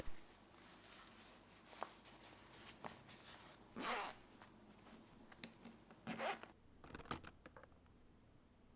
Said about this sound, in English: Unzip the pouch and turn it inside out.